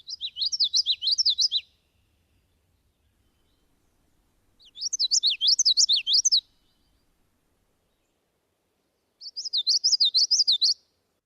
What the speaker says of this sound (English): the mnemonic for the common yellow throat is witchetty, witchetty, witchetty